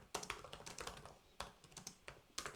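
Quick, light keystrokes on a computer keyboard as a request is typed, clustered taps with brief pauses, faint and close, with no voices.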